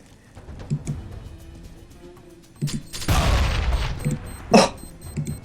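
A grenade explodes in a Counter-Strike: Global Offensive college match, one loud, close boom that rumbles for about a second, surrounded by sharp bursts of in-game gunfire.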